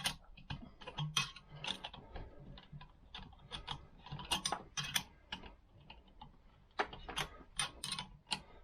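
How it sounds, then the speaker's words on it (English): Metal cylinder stud being worked loose from a Vespa PX scooter engine, giving a quick run of light mechanical clicks and ratchet-like ticks, close and fairly quiet, with no talking. "I'm just taking the last stud out"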